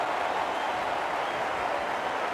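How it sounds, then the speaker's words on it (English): A cricket crowd at the 1996 New Year's Day one-day international between Australia and West Indies roars wildly, a dense, sustained wall of cheering and clapping with no break. "The crowd going mad."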